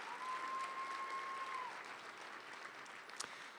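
Steady audience applause at a school district education event, a continuous even wash of many hands clapping, with a thin, faint tone sounding over it for the first part before the clapping tapers slightly.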